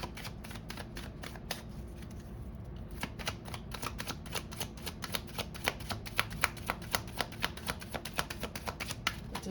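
Oracle cards being shuffled in a steady run of crisp riffling snaps, close and fairly loud, with a low background hum beneath and no talk.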